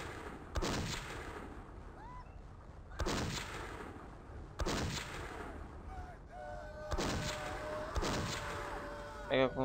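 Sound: gunfire from a video game

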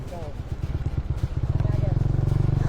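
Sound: motorcycle riding

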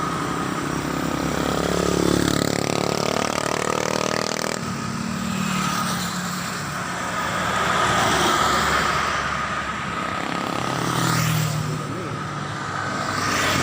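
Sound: motorcycle engine running

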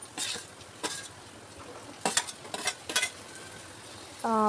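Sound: tomato pieces added to frying onions, stirred

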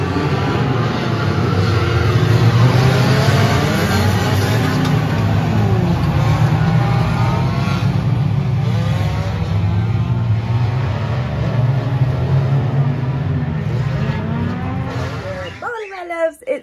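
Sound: banger racing cars revving on a race track

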